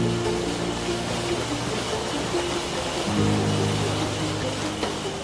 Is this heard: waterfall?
yes